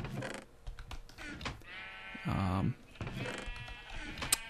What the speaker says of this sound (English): These black sheep and these magenta sheep are quite frisky